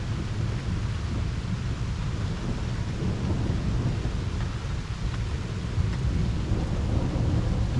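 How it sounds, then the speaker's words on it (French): Severe, highly electric thunderstorm over Liège, Belgium, with heavy rain: a continuous loud wash of steady rainfall and wind under deep, rolling thunder rumbles that persist throughout, with no voices. "Vraiment beaucoup d'éclairs, hein, ça n'arrête pas."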